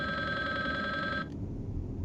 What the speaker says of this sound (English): Answer this phone.